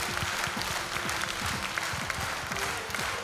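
Audience clapping at a community music gathering in honour of a professor, a dense, even wash of applause over low sustained background tones, moderately faint and steady throughout.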